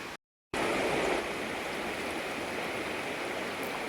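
A river rushes through a forest, a steady broadband roar of flowing water heard close and fairly loud after a brief moment of silence at the start, with no voices.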